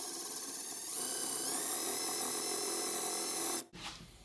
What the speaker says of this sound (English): using that same tile drill bit from before, I drilled a little hole first